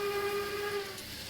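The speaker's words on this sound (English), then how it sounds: "as long as you sit there, the horn will keep playing" A train horn from the Minecraft Immersive Railroading mod sounds as one steady, sustained chord that holds for about a second before it cuts off, leaving a faint hum behind.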